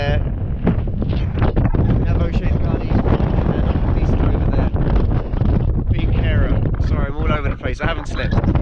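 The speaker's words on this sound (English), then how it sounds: "But it's very, very windy." Strong wind on the summit of Carrauntoohil at sunrise roars and buffets the microphone continuously, loud and close, with a person talking throughout.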